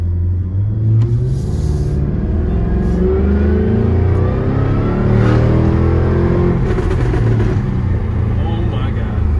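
Jaguar F-Type R engine revving hard in track mode with the exhaust valves open, loud continuous rumbling and rising rev sweeps, with voices underneath.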